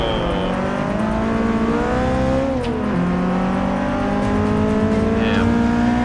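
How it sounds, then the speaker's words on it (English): A car engine in Forza 6 revs and drones loudly through gear changes that grind, its pitch rising and dropping between shifts in a continuous racing roar. "Grinding the gears again"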